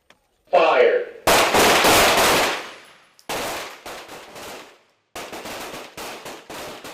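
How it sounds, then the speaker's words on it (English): Handgun shots at an Air Force pistol competition on an outdoor range, loud sharp reports in quick strings and separate volleys with echoing tails and short pauses between. "we are doing the Excellence in Competition handgun competition with the 37th Combat Arms Squadron"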